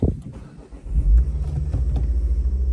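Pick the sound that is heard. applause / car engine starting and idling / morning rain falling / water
car engine starting and idling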